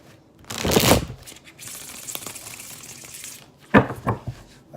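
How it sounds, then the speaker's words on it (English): Tarot cards being shuffled by hand: two bursts of riffling, crisp card flutter with soft papery shuffling between them, close and moderately loud with no talk. "That was a very satisfying shuffle."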